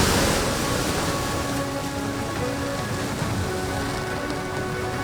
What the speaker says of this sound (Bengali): এখনো পর্যন্ত বৃষ্টি হচ্ছে, সেটা দেখেই বোঝা যাচ্ছে